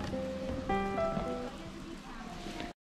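Rain falls steadily across the mountainside at a Buddhist temple near Nanjing, a soft continuous patter heard under a voice and low tonal hums.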